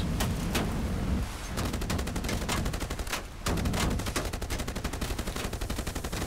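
Rapid machine-gun fire in Age of Water, bullets striking a ship in a steady fast stream of loud close shots with only a brief pause.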